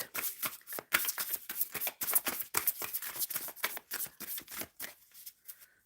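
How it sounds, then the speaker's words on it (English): Tarot cards being shuffled close up make quick, crisp riffling and snapping bursts in an uneven rhythm, with no talking over them. "I am shuffling for the overall energy for the collective for this weekend."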